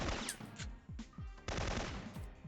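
Rapid gunfire at guards in the Syphon Filter video game, with a quick series of close, punchy shots in short bursts over a couple of seconds, each followed by a brief decaying tail.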